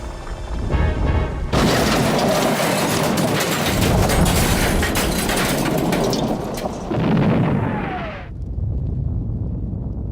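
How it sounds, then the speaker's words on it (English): A shed filled with dynamite at a quarry blows up in a massive explosion: a sudden loud boom gives way to a long roaring, crashing rumble that lasts several seconds, then cuts off abruptly. "Quarry echoed with the noise of the explosions."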